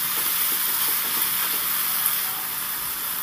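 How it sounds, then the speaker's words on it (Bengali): Carrot, tomato and green chili frying in a pan, a steady loud sizzle and hiss running unbroken throughout, close and with no talk. "গাজরটাকে দিয়ে এবার টমেটোটা আর কাঁচা লঙ্কা সব কিছুর সাথে সুন্দর করে একটু ভেজে নেব"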